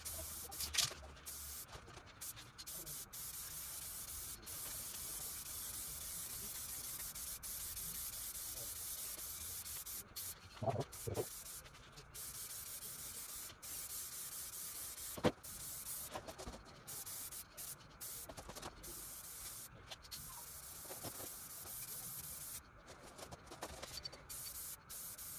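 Steady hiss of a spray gun or aerosol laying paint onto a car body kit panel for a ZC31S, a continuous broad spray lasting the whole stretch with brief pauses and small clicks of the trigger.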